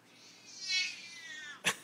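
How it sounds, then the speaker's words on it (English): An old cat cries with one long, wavering meow that rises and falls over about a second, followed by a short sharp sound, fairly close and alone. "The old cat is crying."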